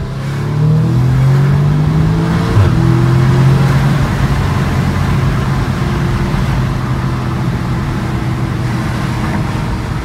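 An Audi S3 accelerates hard, its engine note climbing quickly through a swift gear change and then pulling strongly again, loud and close from inside the car.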